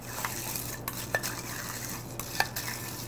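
Mint leaves are stirred and folded into a mint julep, giving a soft steady swishing with a few light clinks of a spoon against the glass, close up and otherwise alone.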